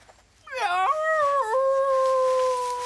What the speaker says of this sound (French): Un loup.